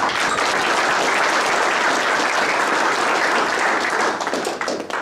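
Audience applause at a world billiards championship final, sustained dense clapping from a large crowd that stays loud and even, then thins and fades near the end.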